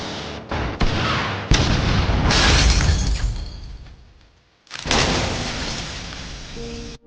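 Loud booming blasts crash one after another as a villa is blasted, with rumbling, shattering debris; the noise fades to near quiet, then another heavy explosion erupts.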